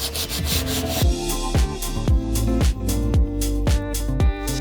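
Rhythmic sanding of a wooden keepsake box with 120-grit sandpaper, steady back-and-forth rasping strokes repeating about twice a second, close and fairly loud, with no talking.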